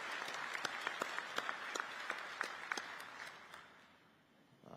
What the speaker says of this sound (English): How about a round of applause for that?